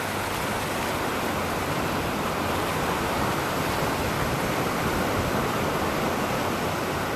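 Steady, dense roar of surf washing continuously onto the shore, loud and unbroken with no distinct breaks between waves.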